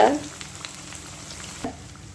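Horse gram vada deep-frying in oil over medium heat produces a steady, close crackling sizzle, with a brief utensil knock at the start and another soft bump later, and no voices.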